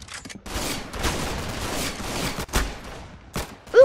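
Rapid video-game gunfire from a Roblox Arsenal match crackles in dense bursts of shots, with short gaps and sharper single hits toward the end.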